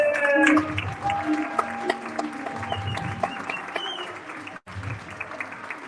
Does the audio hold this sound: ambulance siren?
no